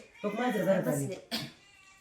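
A cat lets out one drawn-out meow followed by a brief second call, close and clear in a quiet room.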